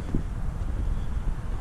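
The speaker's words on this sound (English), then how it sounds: "It's so dang windy out today." Strong wind gusts outdoors at a garage construction site, a steady low roar of buffeting against the microphone that runs through the whole moment without let-up.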